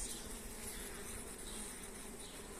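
Honey bees buzz in a steady, dense hum around a beehive as they carry in rapeseed nectar, a continuous close swarm drone with no pauses.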